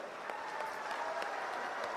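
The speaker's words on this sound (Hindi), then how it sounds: "बजी ना ताली।" Crowd applause at a political election rally in India, a moderate, continuous clapping from many hands with slight swells, no speech over it.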